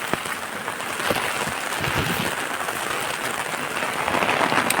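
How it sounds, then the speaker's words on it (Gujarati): Heavy monsoon rain pours down over farm fields in a dense, continuous hiss, steady and loud with no voices. "હજી ફૂલ વરસાદ ચાલુ છે"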